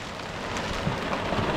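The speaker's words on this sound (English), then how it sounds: "Oh my god, it's hailing." Hail falls during a farm trail ride, making a steady, fairly faint hiss of dense pattering with a few slightly sharper hits and no talking.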